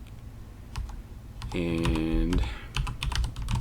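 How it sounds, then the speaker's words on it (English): Keys clatter on a computer keyboard in quick, irregular bursts of close clicks, with a voice briefly speaking partway through. "but here I am typing"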